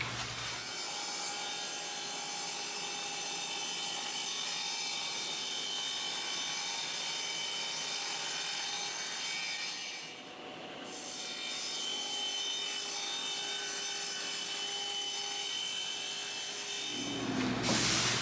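Power saw cutting wood shelves to length in a workshop, a steady loud whining cut that dips briefly midway and then carries on, ending with the blade spinning down.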